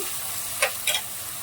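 Ginger paste, garlic, green chilli, garam masala, cumin-coriander powder, turmeric and salt fry in a pan for a bitter gourd dish, giving a steady sizzle broken by two sharp scraping stirs.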